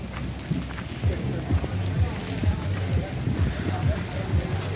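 Wind and rain sweep across Baga beach in Goa with a steady, loud roar and low rumble that continues throughout, while people talk over it.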